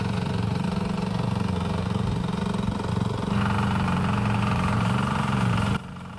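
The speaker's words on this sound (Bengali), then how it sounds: "এখানে দুটি মেশিনে ফিনিশিং করা হচ্ছে।" Two power trowels run on a freshly poured concrete slab at a hollow block company's yard, a steady mid-pitched engine drone that steps up partway through, then drops back before the end, with no talk over it.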